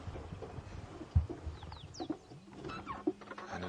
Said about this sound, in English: And it is a fork-tailed drongo.